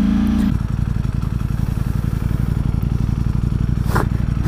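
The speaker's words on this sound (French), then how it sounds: "Juste pour le bruit de l'embrayage à sec" Dry clutch rattle from an idling Ducati Streetfighter V4 SP, a steady, close mechanical clatter over a deep engine rumble with no talk.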